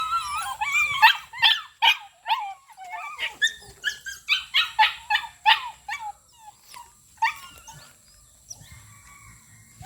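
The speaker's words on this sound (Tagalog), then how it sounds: "Ang kukulit ng mga aso to aba." Several dogs bark and whine excitedly in rapid overlapping bursts, close by, then quieten into scattered yips and whimpers.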